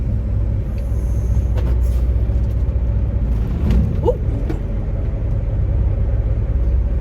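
A truck pulls away under a heavy, steady low engine rumble heard from inside the cab, with faint creaks and a brief squeal partway through and no talk.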